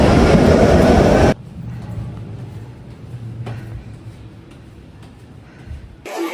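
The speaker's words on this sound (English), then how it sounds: "There goes our underground train." A loud rumble of a passing underground train in Munich cuts off abruptly, leaving a quieter steady hum and faint rhythmic clatter as it recedes.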